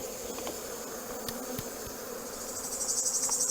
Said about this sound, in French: il faut que je secoue les abeilles là quand même